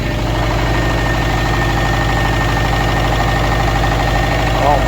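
A rebuilt 2013 Subaru STi engine idles roughly with a loud, close, uneven chugging pulse and a knocking undertone, steady throughout.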